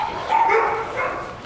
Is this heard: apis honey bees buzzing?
no